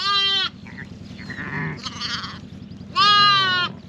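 Sheep and lambs bleat on a New Zealand farm at lambing time: two loud, close, drawn-out bleats open and close the stretch, with softer animal calls and shuffling between them.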